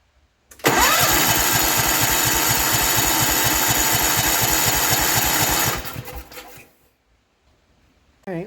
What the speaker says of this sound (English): We have gas at the carburetor now. So it should be starting.